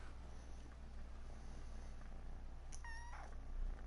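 A cat close by gives a short meow near the end, a single rising-and-falling cry over a low steady purr and faint background hum.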